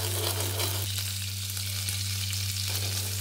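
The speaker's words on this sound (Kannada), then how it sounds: "ಇಲ್ಲಿ ನಾವು ಬೆಣ್ಣೆ ಹಾಕಿದ್ದೀನಿ, 2 ಸ್ಪೂನ್ ಆಗುವಷ್ಟು ಹಾಕಿದ್ದೇನೆ. ಇದು ಮೆಲ್ಟ್ ಆಗೋ ತನಕ ಕಾಯುವ" Butter, about two spoonfuls, melting and sizzling in a pan, a soft continuous frying crackle over a low steady hum, with no talking.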